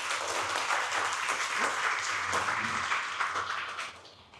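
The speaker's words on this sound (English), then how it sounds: "let's give a big round of applause to our amazing panel" A conference audience applauds a panel on leadership, a dense, steady round of clapping that fills the room and then tapers off near the end.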